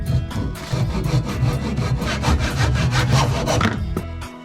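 A Japanese pull-style hand saw cuts through wood with steady rhythmic rasping strokes, close and loud, for about four seconds before the sawing stops.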